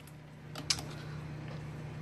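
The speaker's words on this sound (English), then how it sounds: "Sorry, I'm typing." A few soft keyboard taps land in a brief cluster near the start, faint over a steady low hum, with no voices.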